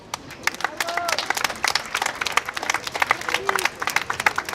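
An audience at a festival claps in scattered, uneven applause that builds and continues, with a voice briefly audible underneath.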